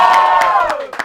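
Crowd of young first-time voters at an election results gathering hooting and cheering for BJP supporters, a brief loud burst of mixed voices whooping together, close by.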